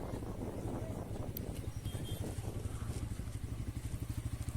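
A motorcycle engine putters along in a steady low rhythmic throb while riding a crowded road under construction near Rowmari, Jamalpur, Bangladesh, with faint wind and road noise and no talking.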